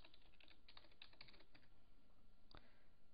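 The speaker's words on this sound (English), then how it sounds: "Now you want to go into your internet browser and type in Pixillion" Close, quiet typing on a computer keyboard: a quick run of light key clicks early on, then a pause and a single sharper keystroke near the end.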